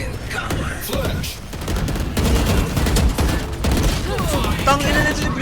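Rapid bursts of gunfire rattle through a shooting video game, close and loud, coming in repeated volleys with gamers talking over them.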